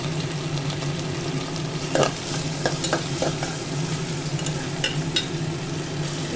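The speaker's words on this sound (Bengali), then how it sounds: "এটা ভালো করে ভেজে নেব এর মধ্যে আমি চিংড়ি মাছটা দিয়ে দিয়েছি" Prawns fry in hot oil in a pan with a steady close sizzle, while a spatula stirs them, scraping and knocking against the metal in a cluster of quick strokes, and no one talks.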